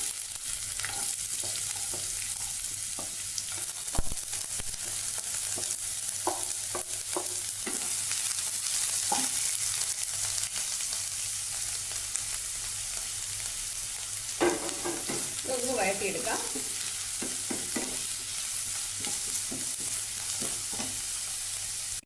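Chopped onion dropped into a hot pan for a soya chunk curry, a steady loud sizzle and hiss with occasional stirring scrapes and clinks and no voices.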